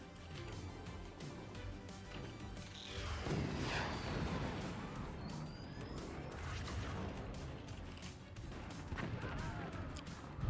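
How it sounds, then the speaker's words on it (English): Howitzer fire and a collapsing structure in the physics strategy game Forts: a deep boom followed by a long, rumbling crash of crumbling debris, dense and sustained across several seconds with scattered smaller impacts. "That's the howitzer shot I was expecting. And there comes it all comes crumbling down."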